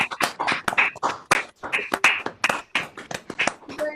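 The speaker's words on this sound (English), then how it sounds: "please could you come on mic and give yourselves a massive round of applause" Members of a national youth jazz orchestra clapping over mics on a remote call, a patchy, uneven round of applause with sharp individual claps rather than a dense crowd roar.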